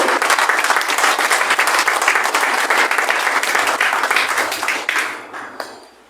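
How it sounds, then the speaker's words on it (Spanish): A church congregation claps in loud, dense applause at a Spanish-language service, steady for about five seconds before thinning out and fading to a few scattered claps. "¿Por qué no le das un fuerte aplauso al Señor?"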